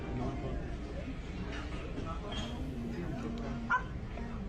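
Person in a mask and dog collar imitating a dog, giving short yips and whimpering barks at moderate distance, half-buried under steady background chatter and crowd noise.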